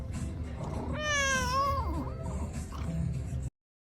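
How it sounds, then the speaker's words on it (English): A cat gives one drawn-out, rising then falling meow, fairly clear against a quiet room background, with no talk. "here's a video of a cat."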